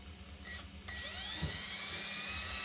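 A high-pitched power drill whine spins steadily at close range during a 3D printer extruder conversion, its tone rising slightly as it speeds up, over a low hum.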